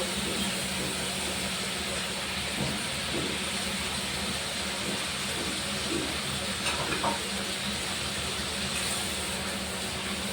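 Tomato paste sizzling in hot oil with cumin and other spices, a steady, even hiss of frying that stays constant throughout, with faint stirring scrapes and no talk.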